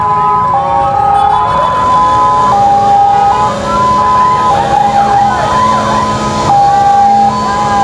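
An emergency siren wails loud and close, its two tones alternating in a steady repeating cycle over rumbling road traffic.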